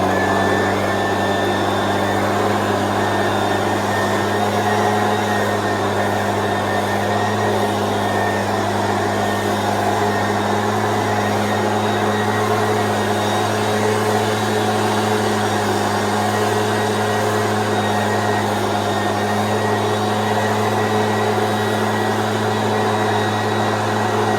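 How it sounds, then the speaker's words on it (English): Backpack leaf blower running steadily during a garden cleanup, a loud, unbroken motor drone with a constant whine and no pauses throughout. "then I'll use the backpack blower"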